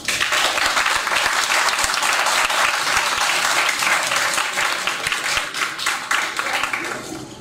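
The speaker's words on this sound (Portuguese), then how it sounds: "uma salva de palmas para Celi Luz." Sustained audience applause at a poetry anthology launch event honoring a first-place verse prize winner, dense and steady throughout and tapering slightly at the end, with faint voices mixed in.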